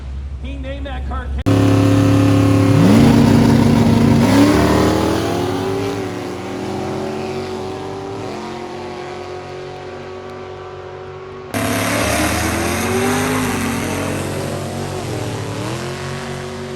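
A banger race car with an LS408 turbo engine roars close by. The revs climb sharply, then the engine drones and wavers before surging loud again, with voices audible over the engine.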